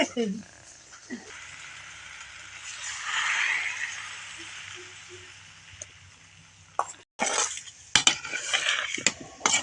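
A spoon stirs drumstick curry with tamarind in a metal pot, making scraping swishes and sharp clinks against the pot. The sounds come close and fairly loud, with a short gap part way through and a voice talking at times.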